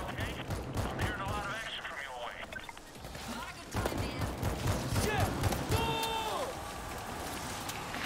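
Rapid bursts of weapon fire crackle in the zombie shooter World War Z, mixed with chaotic game noise. A player talks over the shooting throughout.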